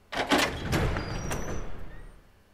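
A door opening in the video game Resident Evil Zero, a short grinding, creaking slide that swells quickly and fades out over about two seconds, heard alone.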